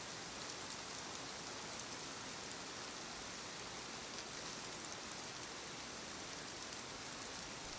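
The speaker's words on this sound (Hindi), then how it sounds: "बूंदाबांदी देखते ही देखते मूसलाधार बारिश में बदल गई।" Heavy rain pours down steadily in a dense, even hiss that fills the whole stretch without letup, with no voices or other sounds breaking through.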